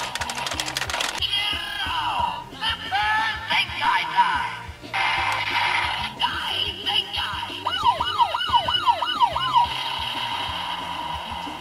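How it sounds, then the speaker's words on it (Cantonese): A Super Sentai toy gear plays an electronic police siren with several rising and falling wails, heard over beeps, clicks and a person talking. "Deka Ranger 同埋拍拖 Ranger 嘅警笛聲都係同一隻啊"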